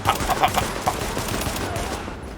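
Gunfire aimed at an enemy in a construction site during a blizzard in The Division, a few sharp shots near the start, fading into steady wind-like background noise.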